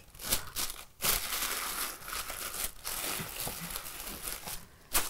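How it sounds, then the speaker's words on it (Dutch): Wrapping paper folds around a gift, producing a run of close crinkles and crisp rustles with brief pauses, then a sharp crumple at the end. "En dan vouw je het papier mooi naar binnen aan de zijkanten."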